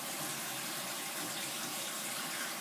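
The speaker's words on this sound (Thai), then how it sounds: "น้ำที่ใส่ไปก็เป็นน้ำสะอาดหรือน้ำสต๊อกก็ได้" Clean water poured into a pot for chicken rice porridge, a continuous close gushing stream at an even level from start to finish, with no voices.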